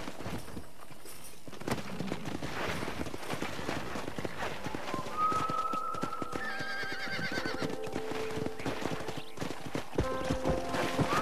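A herd of wild horses in the Western video game Red Dead Redemption gallops past with steady clip-clop hoofbeats and a loud, drawn-out whinny, set against game ambience and music.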